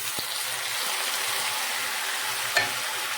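Tomatoes dropped into hot ghee for a masala vada pulusu fry with a steady, bright sizzle throughout, a faint stir or clink near the end, close and continuous with no voices.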